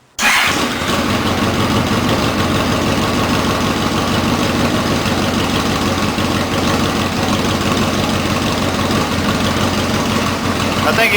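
Yamaha Royal Star motorcycle fitted with custom Harley exhaust pipes starts abruptly and settles into a loud, steady, deep rumbling idle up close for the rest of the clip.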